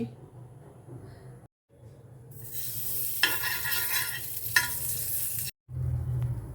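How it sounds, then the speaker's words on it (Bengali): A homemade cheesy sandwich hits a griddle with ghee and breaks into a bright, close sizzle that swells and crackles, after some quiet talk at the start. "তাওয়ার ওপরে দিতে হবে একটু ঘি"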